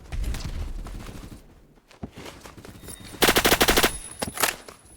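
Automatic gunfire from the Roblox shooter Phantom Forces, with loud bursts of rapid rifle shots and a dense, sustained volley near the end, heard alone with no talking.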